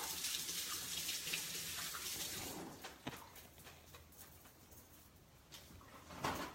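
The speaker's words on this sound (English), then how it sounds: "So I'm going to rinse my hands real quick." Running water from a kitchen tap as hands are rinsed, a steady broadband splash for the first three seconds, then quieter with scattered drips and small knocks.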